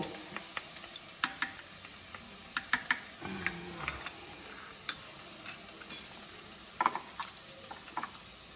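Chicken frying in mustard oil with chilli powder, salt and turmeric: quiet frying with a soft steady sizzle, scattered ticks and pops, and occasional utensil scrapes and stirring.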